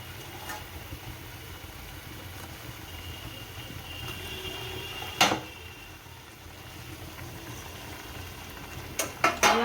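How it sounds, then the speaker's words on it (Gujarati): Buttermilk (chhaas) simmering in a pot as roti pieces go in, a soft steady bubbling murmur with a low hum, broken by a few sharp utensil clinks against the pot. "આપણી છાશ ઉકળી ગઈ છે. હવે આમાં રોટલી નાખી દઈએ."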